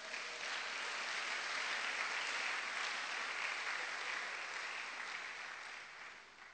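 A church congregation applauding to acclaim the Lord: dense, sustained clapping from a large crowd, steady throughout and easing off slightly at the end, with no voices on top.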